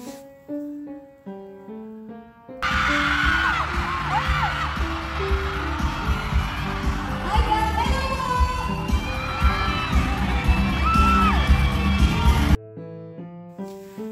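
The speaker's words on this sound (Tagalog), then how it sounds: "Mas lalong lumakas ang sigawan o hiyawan nang maghawakan na ng kamay sina JM at Fiang" Fans of Pinoy Big Brother housemates JM and Fiang scream and cheer loudly as the pair hold hands, a dense, sustained roar of shrieking voices that cuts in abruptly between stretches of music.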